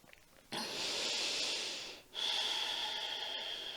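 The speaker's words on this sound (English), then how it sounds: "you're breathing through the nose, breathing from the belly" Slow, steady breaths drawn in and pushed out through the nose during a calm yoga flow, a long airy inhale followed after a short pause by a sustained exhale, close and clear with no talking.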